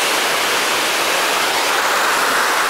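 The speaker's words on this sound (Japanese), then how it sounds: "濁流ですね。" The Narai River, swollen and muddy after continuous rain, rushes past in a dense, constant roar, loud and close, with no break and no voices.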